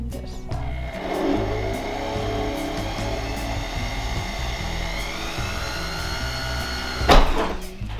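A flex shaft rotary tool with a small drill bit, lubricated, bores a hole in a handmade buckle, giving a steady high whine with a motor hum beneath, close and continuous, with a brief louder burst near the end.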